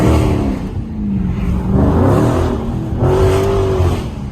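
Dodge Charger Scat Pack engine revving with a deep, loud rumble that rises and falls in a couple of throttle blips, heard up close from inside the car with the window open.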